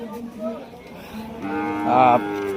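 Cattle mooing at a busy morning cattle market in Rajshahi, with a couple of drawn-out, close moos, the last one louder and rising, over faint market background.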